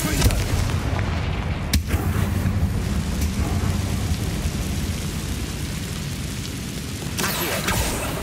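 A Confringo fire blast spell bursts in Hogwarts Legacy, producing heavy booming impacts with sharp cracks and a rumbling, crackling roar that continues loudly throughout.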